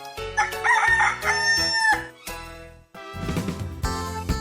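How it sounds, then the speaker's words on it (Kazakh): A rooster crows loudly and close, a long drawn-out cock-a-doodle-doo, followed by clucking farmyard fowl sounds. "Әтеш."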